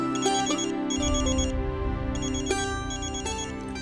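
A melodic phone ringtone plays on its own, loud and close, repeating its tune steadily with no voices.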